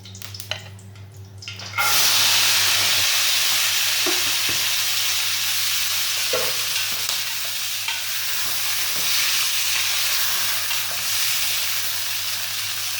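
Green peas stirred and sautéing in a pot, a steady loud sizzle that starts abruptly and runs continuously, with occasional soft clinks of a spoon against the pot.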